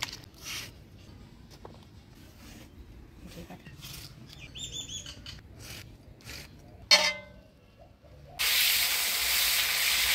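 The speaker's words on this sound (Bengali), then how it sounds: "মাছগুলা ভাজি নিলাম, এবার তুলে নেব।" Taki fish fry in oil in a village kitchen: a loud, steady sizzling hiss bursts in near the end, after a stretch of faint background with birds chirping.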